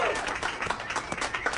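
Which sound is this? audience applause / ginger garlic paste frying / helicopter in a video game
audience applause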